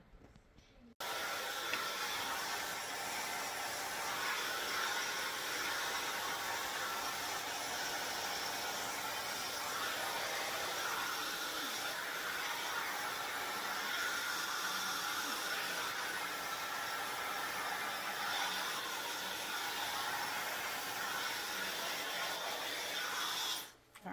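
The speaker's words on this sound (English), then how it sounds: "I'm going to continue the rest of my diffusing, scrunching while I'm diffusing on medium heat" A hair dryer fitted with a diffuser, set to medium heat and low speed, blows while curly hair is scrunched, giving a steady, moderately quiet whoosh that runs unbroken for nearly the whole span.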